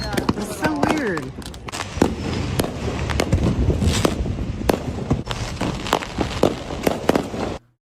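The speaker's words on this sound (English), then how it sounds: "I've actually never seen fireworks before, so I really appreciate this footage." Fireworks burst in rapid, irregular succession, a dense stream of sharp cracks and pops over about seven seconds, with voices talking underneath before the sound cuts off abruptly.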